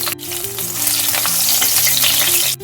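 Chopped garlic and chilli sizzling in hot oil in a pan for chilli paneer, a loud, steady, close frying hiss throughout with a faint background hum and a couple of sharp clicks at the start and end.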